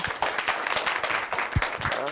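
An audience at a teacher-education talk breaks into a short round of applause, a dense patter of many hands clapping close by for about two seconds.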